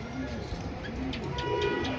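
Two pigeons, a male and female pair kept in a cage with their eggs, give repeated low, rolling coos close by while someone talks over them against a steady background hum.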